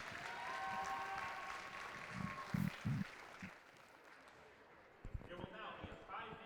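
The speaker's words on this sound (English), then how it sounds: "How about one more round of applause for our Durfee girls seniors?" Fans in a school gym applaud the Durfee girls basketball seniors on senior night before a game against Brockton; the clapping and crowd noise are fairly quiet and distant, with a voice talking over them.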